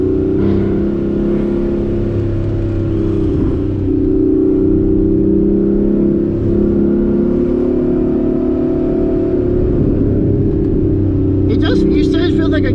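A 2014 Porsche Cayman S engine drones steadily while driving, a loud continuous hum from inside the cabin with slight swells in pitch, and people talk over it throughout.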